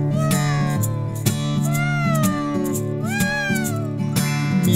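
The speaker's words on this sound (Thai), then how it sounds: "เหมียวเหมียวเหมียวเหมียวเหมียวเหมียวแมวน้อย ผู้น่าสงสาร" A small, wet, shivering kitten curled in a bush meows a few times in soft, rising cries over steady background music.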